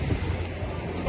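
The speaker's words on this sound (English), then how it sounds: "It's very windy." Wind buffets a microphone outdoors on a city street, a low, rumbling roar that is steady and fairly quiet for a brief moment.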